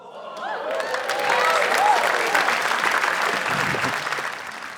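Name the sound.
audience applause at comedy show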